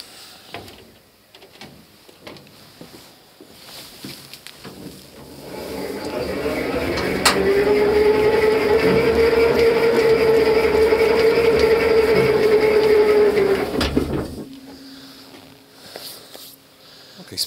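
The turret of a ZSU-57-2 self-propelled anti-aircraft gun rotates with a rising mechanical whir that holds as a loud, steady drone for about eight seconds before cutting off, framed by quieter clanks and shuffling.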